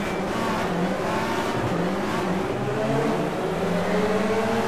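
A BTCC Honda Civic race car in rFactor 2 roars steadily at high revs throughout, its engine note rising and falling with gear changes, loud and continuous with no talking.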